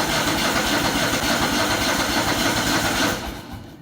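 An engine being keyed over and run while the fuel filter fills, a steady loud, close mechanical drone that cuts off near the end, with no talking.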